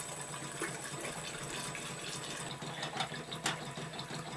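Water runs steadily across a shaker table test rig, a faint continuous trickling gush with a few light knocks, heard alone without voices.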